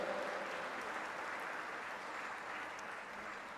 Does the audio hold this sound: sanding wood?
no